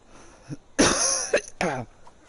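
A single sharp cough bursts out close by, followed by a second rougher cough and a throat-clearing rasp, with quiet moments around them.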